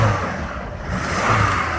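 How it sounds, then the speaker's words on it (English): A brand new 4-cylinder car engine revs, a fairly quiet steady whirring hum that swells slightly in the second half, heard close up without talk. "Just rev it a few times."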